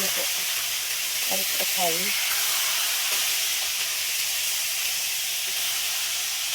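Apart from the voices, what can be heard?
fish sizzling as it fries in oil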